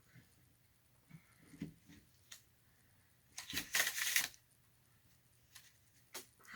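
A magician shuffles a deck of playing cards during a card trick, with soft scattered riffles and taps and one brief louder burst of cards fluttering, quiet and close.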